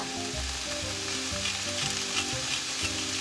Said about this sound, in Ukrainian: Не забудьте помішувати овочі. Перемішуємо всі інгредієнти.